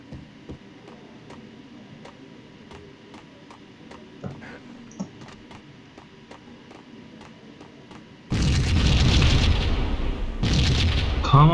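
Explosions in the Max Payne video game, heard as a sudden loud, sustained roaring blast near the end after a quieter stretch of faint ticking and distant thuds, close and dominating the last few seconds.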